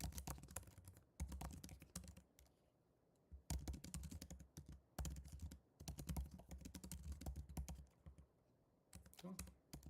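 Fast keyboard typing of C code, a key-click clatter that comes in dense bursts and then pauses, close and clear with no talk over it.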